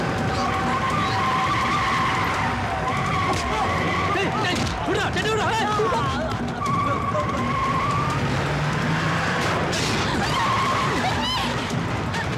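A car pulls away with tires skidding and squealing, loud and continuous over a busy mix of engine roar and background noise, with voices talking throughout.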